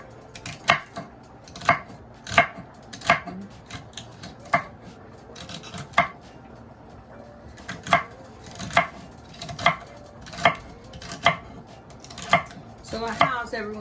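A knife chops celery into small pieces for dressing in a home kitchen, giving a steady series of crisp, fairly close board taps at an even rhythm, with no talking.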